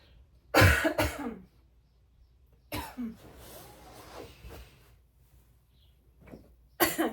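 Several harsh coughs: a loud burst near the start, a weaker fit in the middle, then another sharp cough at the end, with quiet gaps between.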